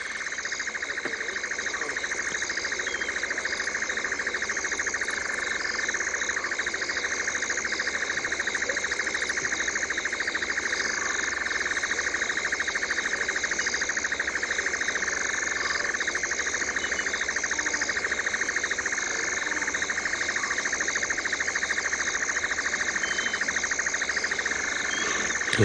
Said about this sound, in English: So nice to hear those sounds of nightjars again. And insects.